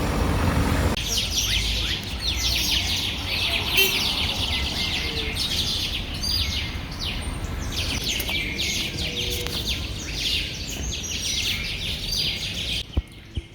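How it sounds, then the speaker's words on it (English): A loud, dense chorus of chirping birds in street trees in Lima, Peru fills the air continuously, rapid overlapping calls close by, with a faint hum of traffic underneath. "Those birds are so loud."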